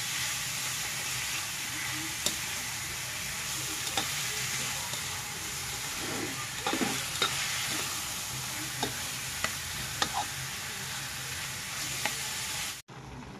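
Chicken frying in a pan as its fat renders out, a steady soft sizzle with occasional light clicks and stirring taps, fairly quiet and continuous without talk.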